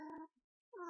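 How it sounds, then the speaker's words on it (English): A house cat gives two short, close meows separated by a brief silence, clear and fairly loud in a quiet indoor room. "Go away, kitty."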